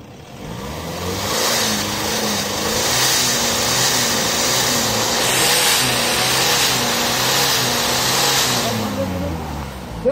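A 150,000 km 2010 Kia Sorento R engine revs up as the accelerator is pressed, a sustained mid-pitched roar that swells and holds close by, with some faint voices in the background.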